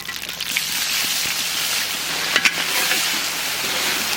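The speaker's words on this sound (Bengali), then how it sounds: "পেঁয়াজ ভাজা হয়ে গেছে।" Onions fry in hot oil used for a katla fish curry, a steady close hiss with a few brief pops partway through.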